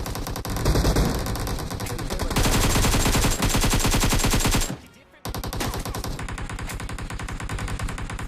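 Rapid automatic gunfire from the BGMI battle royale game rattles loud and dense in long sustained bursts, cut by a brief near-silent gap before the shooting resumes.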